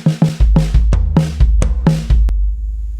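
A drum kit fill of spread-apart triplets played on toms with bass drum kicks underneath, about eight loud, close, evenly spaced hits that finish on a sharp final stroke before the ringing decays.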